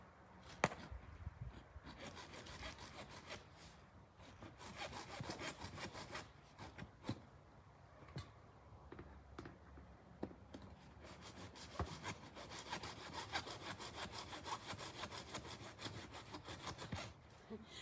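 A hand saw cutting through wood in steady back-and-forth strokes, a rasping rhythm that carries on throughout with brief pauses, fairly close but not loud.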